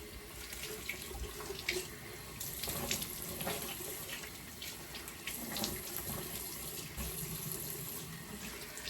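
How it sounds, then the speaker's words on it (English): Water runs steadily from a bathroom tap while a face is rinsed, a continuous close splashing hiss with small surges and splatters, no voices. "So guys, I'm gonna rinse now."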